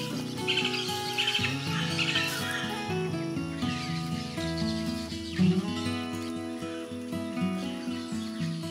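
Yellow-naped parrots call and squawk in bursts over layered background sound in El Salvador, with some tonal music-like lines running throughout.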